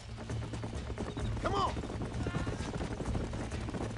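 Horse hooves clip-clop in Red Dead Redemption, a rhythmic clatter under game sounds and a brief spoken line, with a faint whinny in the mix.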